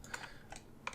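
Computer keyboard keys pressed for a cut shortcut while texturing in Mari software, a few quick faint clicks close by.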